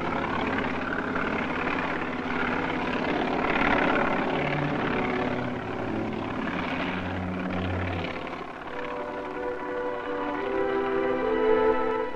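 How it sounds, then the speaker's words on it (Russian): A military transport helicopter on the Novaya Zemlya test range gives a steady, loud rotor and engine drone with a continuous rumbling texture that holds for the whole stretch, alone with no talking. "Оперативные переброски производились на вертолет."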